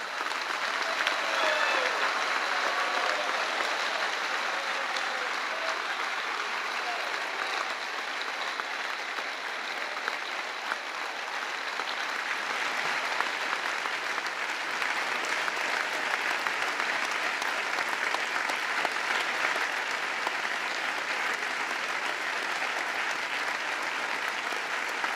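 A large crowd of about 3,300 workers and popular-movement delegates gives a standing ovation to the Pope, dense and loud sustained applause filling the hall without pause for the full length.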